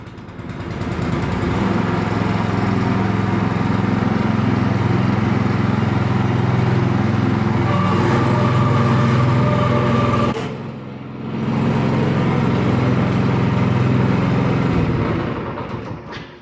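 A Bluebird lawn aerator's small engine runs loudly and steadily, briefly dipping in pitch and volume near the end before returning to its strong, constant drone, with no talking.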